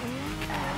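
A Toyota GT86 drift car in a racing video game, its engine note sweeping upward as it shifts gear, with a steady continuous tone and tire noise, close and alone.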